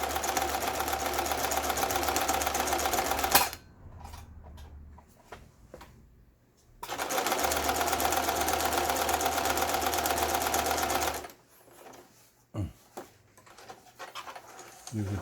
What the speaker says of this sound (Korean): 6번에 주름 잡는 샤링 바느질 이런 각종 기능들이 예 정상적으로 박음질을 되고 있습니다